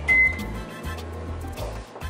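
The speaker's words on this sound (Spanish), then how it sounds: "Vamos a poner esto en el microondas unos 10 segundos, nomás en lo que se nos derrite." A microwave oven heats about two tablespoons of margarine in a kitchen. A short electronic beep opens the clip, followed by a steady low hum that runs throughout at moderate volume.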